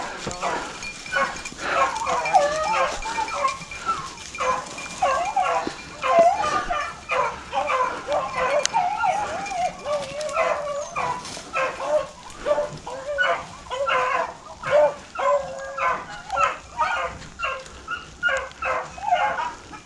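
Rabbit hunting dogs barking and yipping in a rapid, steady chorus, fairly close and continuous, with brief voices in the background.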